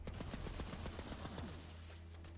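Rapid gunfire from a sniper rifle in Borderlands 3, a dense run of loud shots over about a second and a half that thins into a low rumbling tail.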